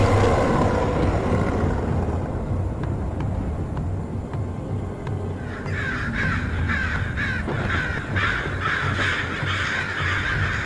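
Crows cawing repeatedly in the Korean horror game 이은도의 저주, harsh caws rising over a dense, rumbling roar of wind and noise that continues for several seconds.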